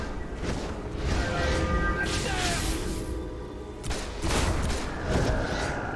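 Video game gunfire comes in short loud volleys of crackling shots with whooshing bursts between them, close and intense, with a player's voice talking over parts of it.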